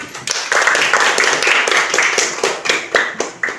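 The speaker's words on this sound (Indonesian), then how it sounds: "Tepuk tangannya dulu buat temannya." A classroom of students claps for a classmate during a microteaching lesson. The clapping is loud and close, busy and overlapping, then thins into a few separate claps near the end.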